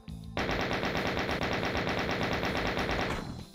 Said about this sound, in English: I hit that guy with bullets